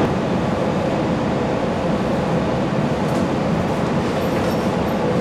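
Steady rumble of running noise aboard Class 165 diesel unit 165136 on the Didcot to Oxford line, working the 2M48 service to Banbury. It is a continuous, even roar that fills the carriage, with no talk.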